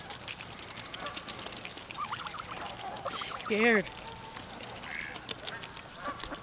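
Ducks and geese being fed at a bird sanctuary, with a brief loud honking call rising above a run of softer quacks, heard under people talking.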